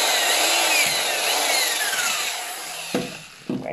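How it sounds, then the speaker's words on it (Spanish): A power drill whirs steadily while boring into bamboo, its pitch sliding as it works, then stops and gives two short bursts. "me tuve que traer aquí el taladro"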